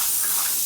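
Compressed air blowing off freshly cleaned parts of a 1941 Harley-Davidson WLD 45 flathead stroker motor in a machine shop: a short, loud, steady hiss with no talk over it.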